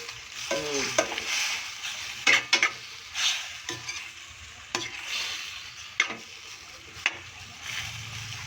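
Pork steak with chili and onion frying in a pan, with a steady sizzle and loud stirring clanks and scrapes of a utensil against the pan.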